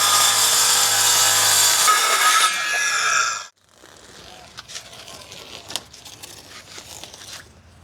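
A loud, steady power saw cuts through wood sheeting on a mini truck camper build for about three seconds, then stops abruptly, leaving quiet rustling and light knocks.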